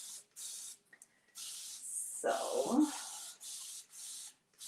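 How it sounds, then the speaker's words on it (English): Spray paint applied up close onto a simple room divider in hissing bursts with brief gaps between, close and fairly quiet, while someone talks over part of it. "when you're very close, the spraying is a little harder and it gets the paint a little better to move,"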